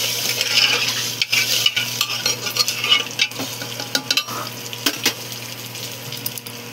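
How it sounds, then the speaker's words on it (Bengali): Fish heads that have fried crisp and red in a pan are lifted out, with a loud sizzle and repeated clinks and scrapes of a metal utensil, for a Bengali muri ghonto dal. "মাছের মাথাগুলো কমসে কম ভালো করে ভেজে নেওয়ার পরেতে তুলে নেওয়া হচ্ছে"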